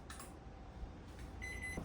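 Kitchen timer in a home kitchen beeping, a short sustained electronic tone near the end over low steady background noise.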